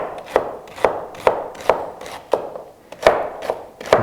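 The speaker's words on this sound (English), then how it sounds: "So some people like their celery cut thin. I do more of a chunky" A knife chops celery into chunky pieces on a board, giving eight or nine crisp, evenly spaced strikes at a steady rhythm, close and clear with no talking.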